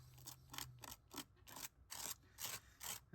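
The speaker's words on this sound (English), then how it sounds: "I'm going to scrape off that excess and I will throw it away." A scraper dragged across a stencil to remove excess paste, about eight short rasping strokes in a steady rhythm, close and quiet with no talk.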